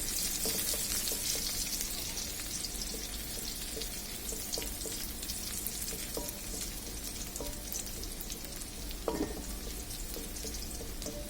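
Chopped garlic frying in oil in the pan before lentils go in for a bottle gourd dal, a continuous faint sizzle with light crackles and one brief stirring scrape, no talking.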